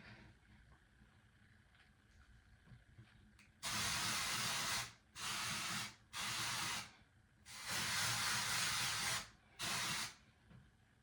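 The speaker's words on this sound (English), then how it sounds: "I go like this, and then I spray all around" An aerosol hair spray can hisses in five separate bursts during a hair blow-out, each one a loud, close spray lasting about a second or two, with short silent gaps between them.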